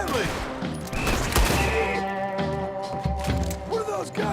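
Gunfire rattles through a Red Dead Redemption 2 shootout: a close, loud fusillade of shots with a sharp burst near the middle, layered over music and game sounds, with no clear speech.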